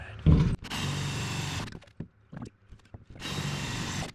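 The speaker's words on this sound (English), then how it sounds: "And drill out spot welds on the backside." Two bursts of a power drill whining through metal while drilling out spot welds on a 1967 Kaiser Jeep M715 cab floor, each over a second long, close by, with a clunk at the start and small knocks between.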